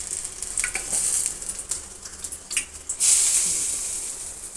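Hot oil poured and sizzling after the gas is switched off, a loud, bright hiss that swells sharply partway through and then slowly fades, close up and with no talking.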